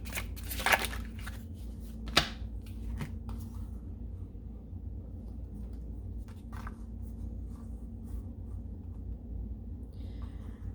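Tarot cards being handled and drawn from a deck, a few soft papery shuffles and a sharp snap near the start, then quiet rustling over a low steady room hum.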